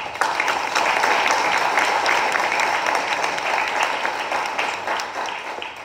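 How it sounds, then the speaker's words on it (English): A round of applause from the audience at a school health advisory council meeting: steady, full clapping that holds loud and even throughout and tapers slightly at the end. "Please give him a round of applause."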